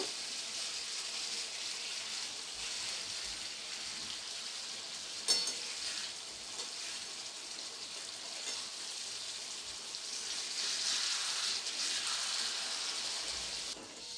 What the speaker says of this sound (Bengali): তো দেখুন তেলের মধ্যে দিয়ে এক পিঠ ভাজা হয়ে গেছে। এবার আমি মাছগুলোকে একটু উল্টে নেব।